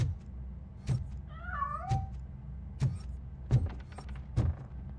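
A cat meows once in the video game Robocop: Rogue City, a short wavering call over a low engine-like hum and regular heavy thuds.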